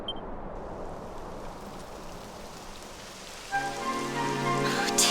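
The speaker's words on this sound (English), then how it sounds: "It would have to go and start raining, wouldn't it?" Steady rainfall in Dragon Quest XI S, a continuous hiss of drops on surfaces at moderate level, joined near the end by tonal game music swelling over the rain.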